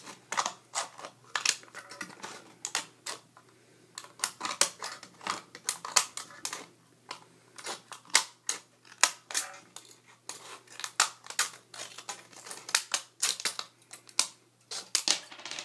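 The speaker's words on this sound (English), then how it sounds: "I'm going to use some scissors just to cut around" Scissors snipping in quick, irregular bursts, close and crisp, with short pauses between runs of cuts.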